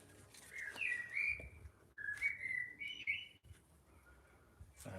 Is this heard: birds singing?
yes